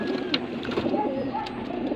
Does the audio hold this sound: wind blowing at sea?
no